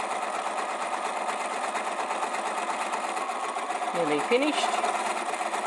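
Sewing machine zigzag stitching across crinkle silk chiffon, a steady continuous whirring hum held throughout at close range, with someone speaking briefly near the end.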